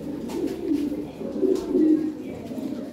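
A large pair of Lahore pigeons sitting on eggs coo softly and repeatedly, low throaty calls pulsing close by over faint background noise.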